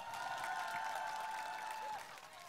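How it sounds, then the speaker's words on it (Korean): A crowd claps at an outdoor talk concert in Ulsan Grand Park, Korea. The applause is faint and steady for about two seconds while a sustained tone sounds above it, then it drops slightly. "박수 한번 다시 한번 크게 부탁드립니다."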